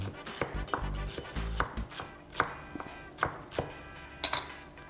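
Fresh parsley being chopped finely with a knife on a board, a run of quick close taps followed by several sharper, spaced chops, fairly quiet with no talk.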